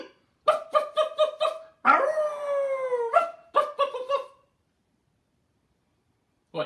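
A storyteller's voice imitates a dog, giving a run of short yapping barks, then a long rising-and-falling howl, then more quick barks, loud and close before trailing into silence.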